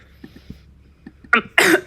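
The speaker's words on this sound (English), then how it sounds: "That was a really involuntary cough into your ears." A single person gives one sharp, loud cough near the microphone, preceded by faint soft tapping and a short throaty sound just before it.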